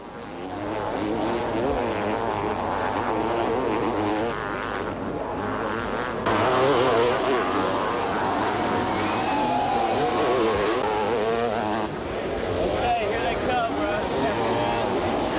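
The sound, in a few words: motocross bikes racing, 1991 US motocross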